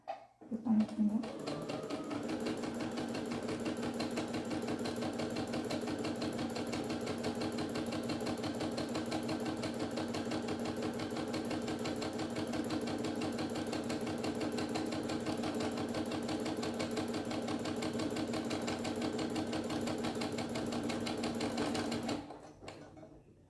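A domestic sewing machine running a long, steady stitching pass to finish a palazzo pant alteration, a continuous close, even mechanical whir that starts and stops cleanly, with no talk over it.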